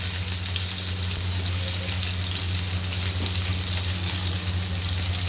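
Slit green chilies and halved tomatoes frying in oil in a pan, a steady close crackling sizzle with fine popping, continuous and even over a low hum, with no talking.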